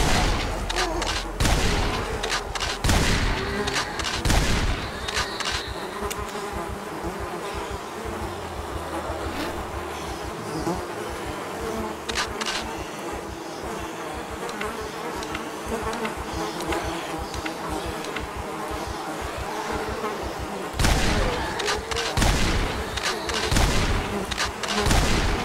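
Shotgun blasts in the zombie survival game Project Zomboid, a few loud booming shots at the start and again near the end, with a constant buzzing drone of game ambience in between.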